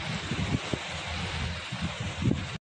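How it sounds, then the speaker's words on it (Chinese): A strong night gale sweeps through a residential compound in Huixian, where it is knocking over electric scooters. It makes a dense, steady roar with low buffeting thumps and then cuts off abruptly. "狂风突袭辉县，电车什么的都被吹翻了"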